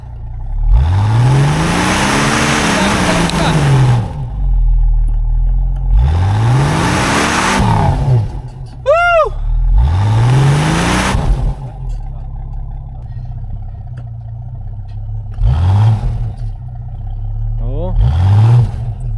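A car stuck in snow revs hard in repeated, roughly evenly spaced bursts, its engine pitch climbing and falling each time, loud and close, with voices talking between and over the revs.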